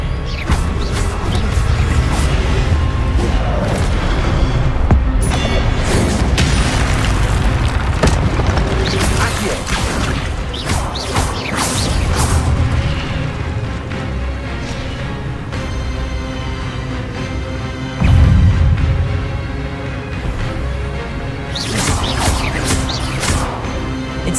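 Spell impacts in Hogwarts Legacy land as repeated booming blasts and crashes in a dense, loud, continuous barrage of magical combat.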